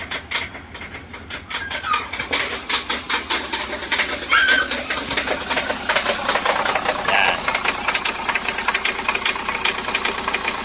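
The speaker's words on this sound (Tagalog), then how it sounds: "Ganyan kalakas, parang minamartilyo, parang may pumapalo sa loob ng makina." An idling Hyundai Starex van engine with a rapid, hammering knock running steadily throughout, loud and close, with a voice speaking briefly over it; check engine light on, code P0253.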